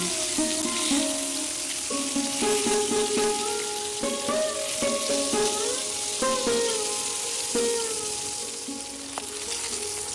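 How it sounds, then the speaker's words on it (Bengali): Hilsa fish pieces frying in hot oil as they are turned to cook the second side, giving a steady, close crackling sizzle throughout, with bright tonal notes layered over it. "মাছের পিসগুলো একটা পিঠ হালকা করে ভাজা হয়ে গেছে। এবার উল্টো পিঠটাও ভেজে নিচ্ছি।"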